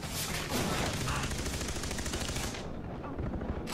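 Rapid automatic gunfire from a weapon in the shooter game Far Cry 3, a dense, continuous burst of loud shots that rattles on for several seconds, with a voice faintly mixed underneath.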